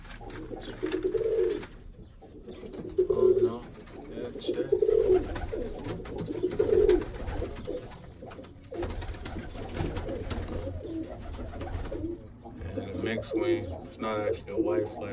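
Birmingham Roller pigeon squeakers coo repeatedly in low, throaty bursts on a loft floor, close and clear, with a person talking intermittently over them.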